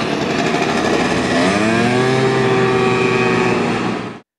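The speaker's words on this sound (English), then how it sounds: "gas-powered mopeds or scooters, called snorfietsen in Dutch, which are allowed to use most bike lanes in the country" A gas-powered moped, the lawnmower-like Dutch snorfiets, passes loudly along a bike lane, its buzzing engine rising and sweeping in pitch before cutting off abruptly.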